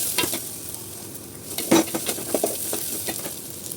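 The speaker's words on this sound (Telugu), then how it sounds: "ఇలా బాగా వచ్చిన తర్వాత టమోటా వేసుకొని బాగా ఫ్రై చేసుకోండి." Tomato fries with onion, garlic and curry leaves in a pan, giving a soft, steady sizzle broken by scraping stirs and light clinks of a spoon against the pan.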